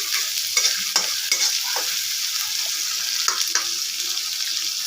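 Green chillies fry in a pan of spiced masala for a soybean biryani, a steady bright sizzle with repeated scraping stirs of a spatula, fairly close, with no talk.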